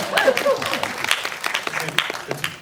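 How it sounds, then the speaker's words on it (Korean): Audience applause at a film screening Q&A, a short burst of clapping mixed with voices talking and cheering. "박수 한번 부탁드립니다."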